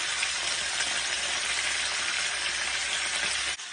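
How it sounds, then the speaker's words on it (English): Chicken skin fries in olive oil in a skillet, giving a steady, dense sizzle and crackle that runs without a break, close and even, before cutting off abruptly near the end. "all I had in here was some olive oil and a little bit of olive oil, and I just threw the skin in"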